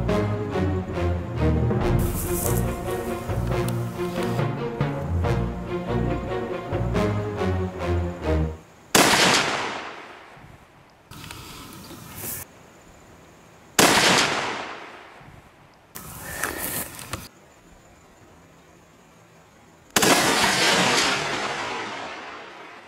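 Sharp, loud 22-250 rifle reports and cracks from a fallow deer hunt at Waikaremoana, New Zealand, ring out several times with echoing decays after an opening stretch of rapid repeated clattering.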